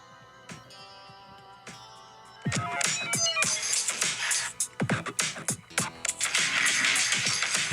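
A telephone ringtone plays in the background of a scene from the 1979 film The Warriors, with melodic tones layered under louder clattering, thumps and other sounds.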